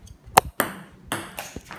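A ping pong ball strikes an iPhone held as a paddle in a casual game of table tennis, giving a few sharp, close taps spaced irregularly with faint room noise between them.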